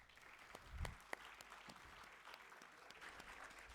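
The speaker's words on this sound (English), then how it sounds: "Let's greet him with a warm round of applause." Audience applause at a national food packaging conference greets a speaker: a continuous wash of clapping hands from a large crowd, steady and moderately distant, with no speech over it.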